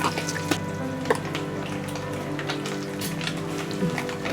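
Katla fish roe frying in hot oil in a pan, a dense steady sizzle and crackle with scattered pops, close and continuous.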